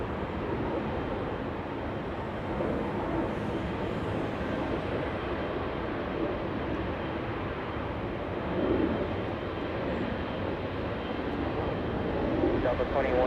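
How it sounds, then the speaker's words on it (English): An Air France Boeing 777 taxiing at Los Angeles International Airport gives a steady, broad jet engine rumble that holds evenly throughout and swells slightly near the end. "we are going to the 777 taxiing north on Lima. That's Air France flying back to Paris"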